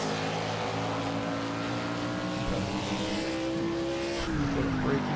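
A 1990s Chevy Monte Carlo stock car races at Watkins Glen in Project CARS, its engine a loud, steady droning roar that dips as it shifts gears twice.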